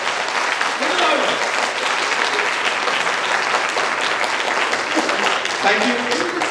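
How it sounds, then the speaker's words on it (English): Sustained audience applause at an international academic conference, a loud, even roar of many hands clapping with faint voices threaded underneath. "A big round of applause."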